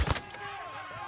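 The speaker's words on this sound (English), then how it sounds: "We're taking fire." Gunfire in Call of Duty Modern Warfare 2 during a cartel firefight, a sharp close shot burst at the start followed by a noisy, echoing combat tail with faint distant shots.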